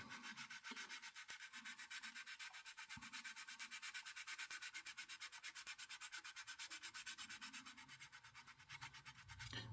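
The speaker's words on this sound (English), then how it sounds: "you don't want to just come in and just sand there, because if you look on an angle, you see it dip away" A Revell 1/48 Bristol Beaufighter Mk.VI plastic model kit is sanded with quick, even back-and-forth strokes, a close, soft, rhythmic rasping that keeps going without a break and with no talking.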